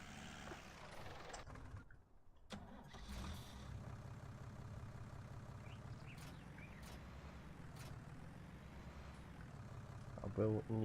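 A tractor in a farming game drones with a steady low engine hum for the whole stretch, fairly quiet and constant, with a brief dip and a few clicks near the end and a voice talking over it.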